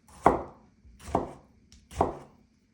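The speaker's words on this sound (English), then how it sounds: "we're going to cut up our tomatoes to add them into our skillet with our onions" Three evenly spaced knife chops on tomatoes against a cutting board, each a sharp thud with a brief tail, fairly close and alone in a quiet kitchen.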